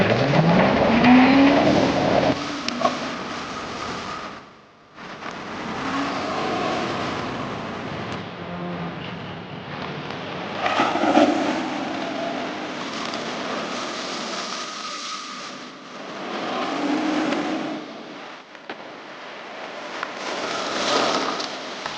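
A Ninebot GoKart Pro fitted with big front wheels drifts and slides across pavement, its electric motor whining and rising under continuous scrubbing tire noise, fairly loud and near throughout.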